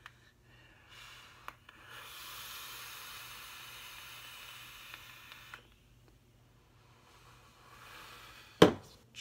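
A vape device with only the first set of airflow holes closed draws air straight onto the coil, making a soft, steady hiss that lasts about four seconds in a quiet room, followed by a brief close rustle.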